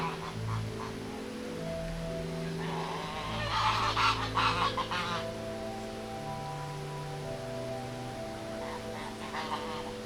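Canada geese honking loudly and repeatedly, several birds calling over one another in a steady, noisy chorus with a brief burst of splashing midway as one goose re-enters the water.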